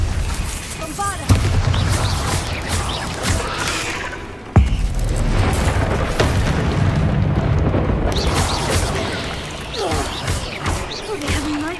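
Bombarda spell explosions in the Hogwarts Legacy video game: heavy booming blasts with a sharp crack near the middle, set within a dense, continuous roar of battle effects and music, with voices calling out over the din.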